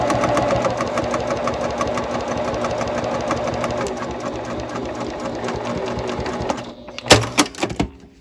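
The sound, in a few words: sewing machine stitching a tote bag seam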